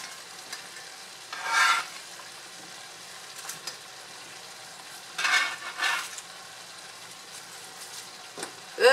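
Cabbage stir-frying in a hot pan for rice noodle pansit with pork and vegetables, a low steady sizzle broken by a few louder bursts of stirring and tossing, with no talking.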